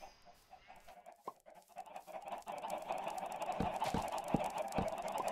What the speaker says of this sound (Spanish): Mira la de pollos que hay ya, madre mía